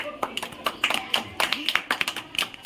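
Children in a classroom clap together in a quick, uneven burst of sharp claps, with voices mixed in under the applause.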